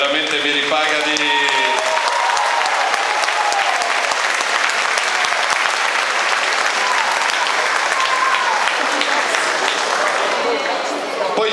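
A rally crowd in Nuoro applauds loudly and continuously for a political speaker, dense clapping mixed with cheers and voices filling the whole stretch at steady high level.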